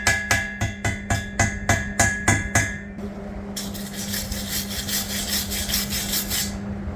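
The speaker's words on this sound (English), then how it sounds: "So what I'm using here, guys, these are flap discs. I think this is 60 grit." A 60 grit flap disc rasps against a rough weld on a homemade steel cattle walker, first in about a dozen short rhythmic strokes, then as a steadier continuous scraping, close and moderately loud.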